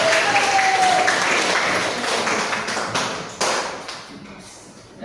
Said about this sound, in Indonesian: Ya, kasih aplaus semuanya.